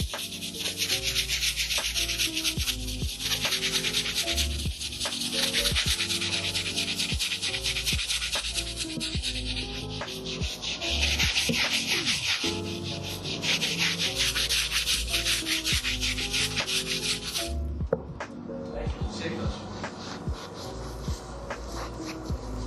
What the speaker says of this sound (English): I'm gonna go across my stiff bristle brush one more time to get the remaining debris off